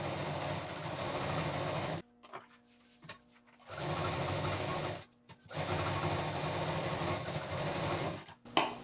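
A sewing machine stitches a shoulder bag in steady, close bursts of whirring, broken by short pauses between seams.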